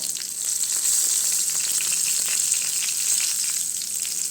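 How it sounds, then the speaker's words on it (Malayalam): Mustard seeds, dried chilies and curry leaves crackle and sizzle in hot tempering oil, a dense, bright, continuous frying hiss heard close up with no voices. "ഇതിലേക്ക് കടുക് മുളക് കറിവേപ്പില കടുക് ഇട്ട് കൊടുത്തിട്ടുണ്ട്"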